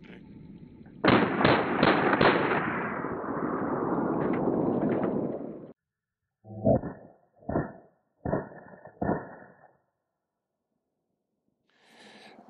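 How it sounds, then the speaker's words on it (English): A UMP 45 firing 185 grain Remington hollow points outdoors: a loud burst of rapid shots with a long rolling echo, then four separate sharp reports spaced about a second apart, and a faint sound at the end. "UMP 45 here with some 185 grain Remington hollow points."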